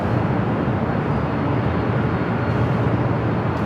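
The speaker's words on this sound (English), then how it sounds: "That was Delta Airlines flight 479, coming in from Boston on that 28-year-old 757-200" A Delta Airlines Boeing 757-200, 28 years old, lands at Los Angeles LAX after arriving from Boston, its jet engines a steady loud broadband roar throughout.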